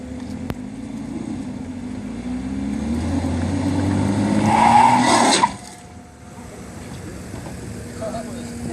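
BMW X5 xDrive on traction test rollers, its wheels spinning under full power: a rising, steady drone of tyres and rollers that swells for several seconds, then drops away sharply to a quieter rumble.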